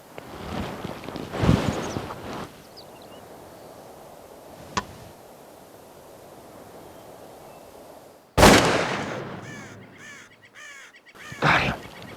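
During a Wyoming mountain turkey hunt, a single sharp, loud gunshot rings out, followed by a few crow caws and some rustling and movement nearby.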